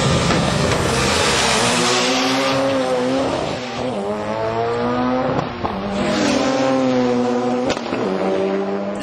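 An R32 Skyline GTS-T with its RB20 engine stroked to 2.4 liters and a modified TO4R turbo revs hard at a drag meet, loud and close, with rising engine harmonics repeating through several gear pulls and tire noise.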